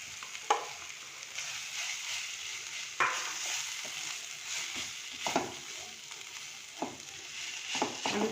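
Mashed boiled potato being stirred into softened vegetables in a pan, with irregular scraping and stirring knocks from a spatula over a soft constant sizzle, close and fairly quiet, no talk.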